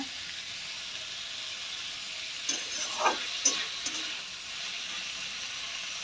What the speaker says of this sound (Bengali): তারপরে মাংসটাকে একটু ভেজে নেব।